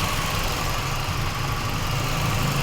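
Toyota Vios engine idling with the A/C compressor engaged, a close, loud, steady low rumble with broad mechanical hiss and even vibration, constant over a few seconds.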